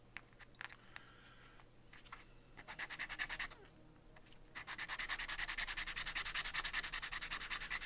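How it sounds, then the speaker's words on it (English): Sandpaper sanding by hand, first a few scattered scrapes, then rhythmic back-and-forth rubbing strokes that grow steady and louder, close up with no talking. "There's my sandpaper."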